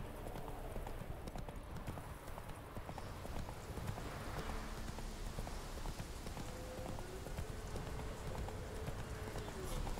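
Hooves of the horse Roach clip-clop steadily in a galloping rhythm in The Witcher 3 video game, continuous and close over a busy layer of game ambience, with a voice talking at times.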